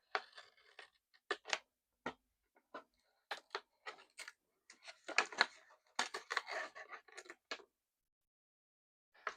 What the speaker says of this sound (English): You can use scissors if you don't have a craft knife.